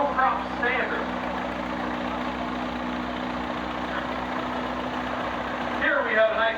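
A Super 88 tractor engine idles steadily in a steam show parade, a mid-pitched chugging drone held throughout, with a voice speaking over it near the start and end.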